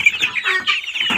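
A Light Brahma hen clucks and chatters close by, a quick run of short, bright clucks and squawks with no voices.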